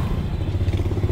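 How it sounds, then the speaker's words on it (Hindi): A motorcycle in first gear climbing a bridge ramp, its engine a steady low rumble with rough thumping, close and loud throughout. "अब जी ये हमारा मोटरसाइकिल यहाँ से जा रहा है जी ऊपर"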